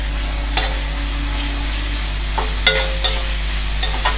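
Finely chopped tomatoes fry with onions in a pan, giving a soft, constant sizzle broken by several sharp scrapes and taps of a spoon stirring against the vessel.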